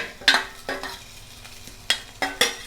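Green chillies, ginger, onion and curry leaves being stirred in a little oil for a semi-ripe mango curry, with a few distinct scraping stirs over a faint background sizzle, close by and with no talking.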